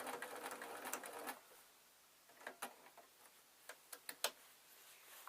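A domestic sewing machine stitches along a line on a quilt backing, a short run of rapid mechanical whirring followed by scattered light clicks and taps, faint and close.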